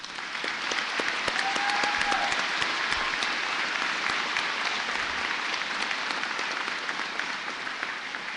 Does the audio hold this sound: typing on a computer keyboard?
no